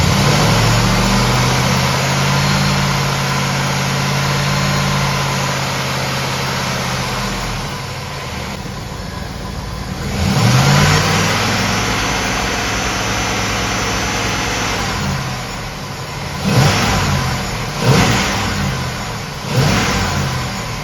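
GMC truck engine with a loose distributor idling, then revved to about 2,000 RPM, a steady loud mechanical drone followed by several short throttle blips near the end.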